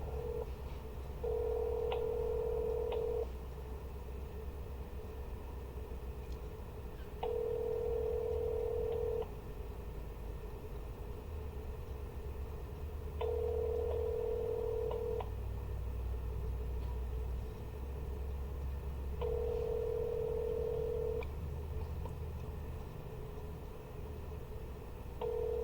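A phone line ringing out before a call drops to voicemail: four long, evenly spaced ringback tones roughly every six seconds over a steady low rumble, no voices.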